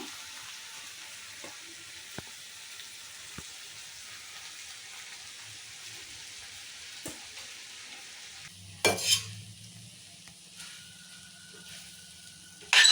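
Rice being stirred into a sizzling tamarind pulihora mixture with melted jaggery: soft steady frying hiss with occasional taps, then louder scraping and mixing clatter in a pan near the end.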